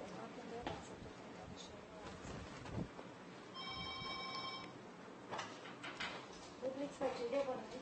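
A telephone rings in short harmonic bursts for about a second, unanswered, during a live televised art-gallery shopping broadcast, with a presenter talking throughout.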